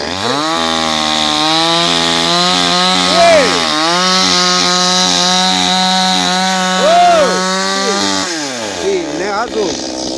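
A loud engine-driven chainsaw cutting firewood runs steadily with rising and falling revs as it cuts, close by, with voices faintly beneath.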